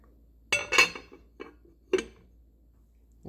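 A lid is set onto a pot of simmering filling, giving a few close metallic clinks and rattles in quick succession, then a couple of lighter taps in a quiet kitchen.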